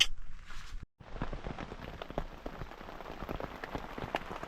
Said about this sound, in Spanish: Empezó a llover. Y bastante fuerte.